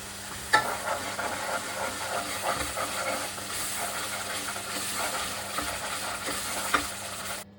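A tempering of chillies and turmeric frying in hot oil in a pan, with a continuous loud sizzle and hiss and a couple of sharp stirring clatters, no voices.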